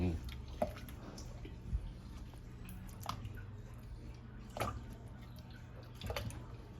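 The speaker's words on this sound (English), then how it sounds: "This water now start to boil." Water in a pot on a low stovetop flame just starting to boil, giving off sparse, soft bubbling pops about every second or two over a steady low kitchen hum, close by and fairly quiet.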